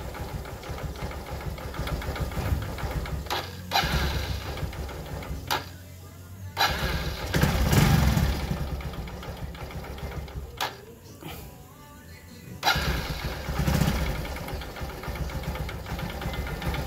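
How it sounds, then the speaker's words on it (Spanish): A motorcycle engine runs after carburetor cleaning and synchronization, idling high with a rapid, steady mechanical chatter, briefly dipping and rising again several times as the throttle changes. "Se va a escuchar un poco acelerada, pero no es que esté acelerada, es que esa moto es muy revolucionada."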